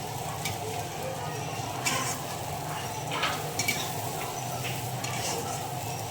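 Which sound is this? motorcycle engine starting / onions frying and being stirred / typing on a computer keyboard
onions frying and being stirred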